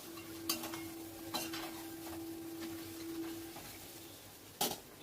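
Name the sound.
stirring mutton in a cooking pot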